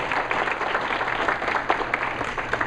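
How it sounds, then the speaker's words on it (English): An audience at a general election commissioner debate claps in a sustained, even round of applause filling the room, with no speech over it. "Share a little applause for Terry"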